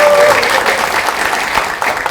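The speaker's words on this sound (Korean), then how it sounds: "큰 박수 함성 부탁드릴까요" Loud applause with some cheering from a crowd at a Democratic Party budget-policy meeting in South Chungcheong, a dense continuous roar of clapping heard close up, with no talk over it.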